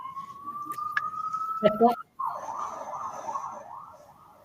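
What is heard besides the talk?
ambulance siren passing outside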